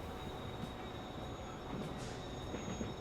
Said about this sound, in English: There's our quarry train.